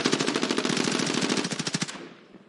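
Rapid assault rifle fire in an esports shooter match, a dense burst of automatic shots lasting about two seconds, loud and close, then abruptly stopping.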